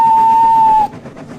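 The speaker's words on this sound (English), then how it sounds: "Presently, he heard a whistle." A steam train whistle gives one steady, loud, high tone of nearly a second, then cuts off to a faint rumbling background.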